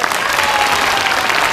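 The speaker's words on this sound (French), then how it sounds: "on peut l'applaudir très fort" A live audience at a magic and mentalism show in Lyon, France claps loudly and steadily after a card trick, a dense wash of applause filling the room throughout.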